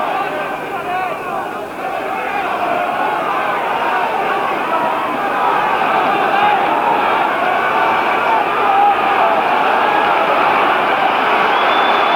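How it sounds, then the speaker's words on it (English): A loud, continuous roar of a large crowd cheering and clapping for a boxing match in a famous old arena, filling the big space without letup. "The applause comes ringing and cheering in from all around this famous old arena"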